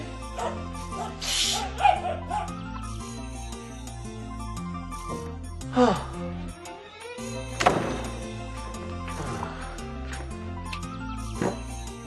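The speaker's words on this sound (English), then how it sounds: "Stop barking!" Dogs yip and whimper in short bursts over a steady musical background, with a few sharper barks standing out.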